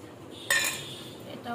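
Boiled mashed potato with lightly fried onion, garlic and chilli being stirred into leftover cold rice in a bowl; a sudden scraping clatter of a utensil against the dish, then softer stirring that fades, with no talk.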